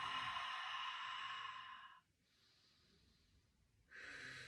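Two airy, breathy exhalations during a pelvic floor exercise, close and quiet, separated by a short silent pause.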